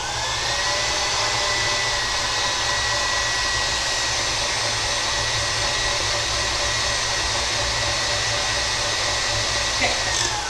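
Electric mixer creaming butter and sugar for banana bread, a steady loud whir running without a break, with a faint clink near the end.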